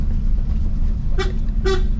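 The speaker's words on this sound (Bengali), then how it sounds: "এই যে এটা হর্ন।" Two short car horn toots, about half a second apart, sounding close over a steady low engine rumble.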